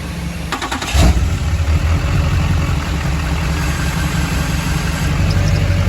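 A high-mileage Duramax diesel engine rumbles loudly and steadily, a low continuous drone with a brief clatter near the start, no voices over it.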